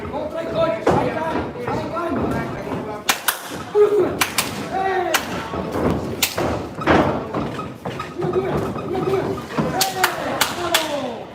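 Boxing punches land on pads in an Italian competitive boxing gym as sharp thuds in quick combinations, close and loud, while a coach keeps talking over them.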